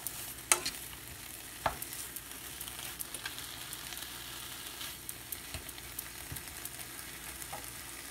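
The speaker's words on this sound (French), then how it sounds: "on va brasser un petit peu le tout" Bacon and other ingredients stirred together in a sizzling pan, a faint, steady frying crackle with occasional scraping clicks from the utensil, and no voices.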